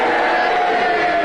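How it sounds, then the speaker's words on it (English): A studio audience at a panel game boos together, a loud, sustained chorus of low voices that holds steady for the whole moment. "The boos have it"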